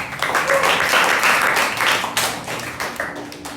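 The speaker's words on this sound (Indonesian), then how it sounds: "Tepuk tangan ya." A classroom of students claps for a classmate at a teacher training lesson, with dense, steady applause that holds for several seconds and then thins slightly toward the end.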